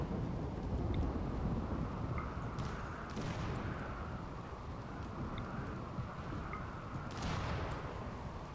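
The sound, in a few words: rain and thunder in the video game RimWorld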